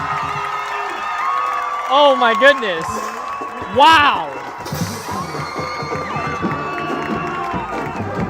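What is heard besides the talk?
football crowd cheering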